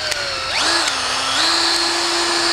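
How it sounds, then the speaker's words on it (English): A power drill bores into stainless steel while fitting a wakeboard tower, its motor whining up in pitch, then settling into a steady high grinding tone as the bit bites, loud and close. "And what I'm going to do, as I start drilling, I'll use this like a portable drill press and tighten this up."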